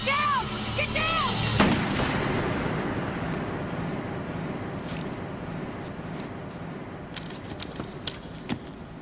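Gunfire during a shootout: sharp shots crack out early, followed by a long rushing wash of noise and scattered distant pops toward the end, with shouted voices in the background.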